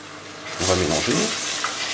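Fish curry with coconut milk stirred in a pan with a spatula, a short burst of bubbling and scraping rising midway and then easing, close and moderately loud.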